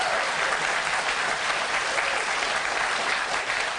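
Dense, steady applause from a studio audience at a live television talk show, filling the whole stretch loudly and evenly with no voices standing out.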